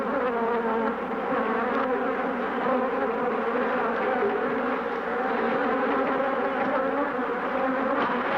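A dense swarm of killer bees buzzes steadily around a beekeeper, a loud, unbroken, close hum that fills the whole stretch without pause.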